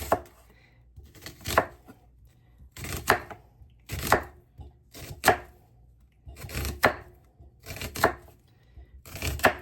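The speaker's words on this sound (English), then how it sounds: "now I'm going to cut up these onions" A knife cuts onions on a board in a slow, regular series of about ten firm chops, each a crisp close thud with a short scrape, separated by quiet pauses.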